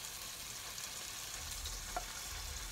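Chicken frying in a pan after being turned several times gives a soft, steady sizzle close by, with a small clink partway through and no voices.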